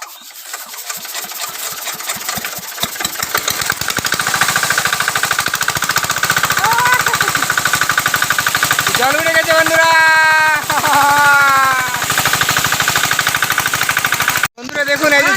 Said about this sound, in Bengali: আমাদের মেশিন সেট করা হয়ে গেছে এখন স্টার্ট দিব